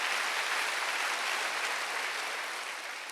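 A church congregation at a Wednesday worship service gives a continuous wash of applause, dense and even, with no individual claps standing out and no voices over it.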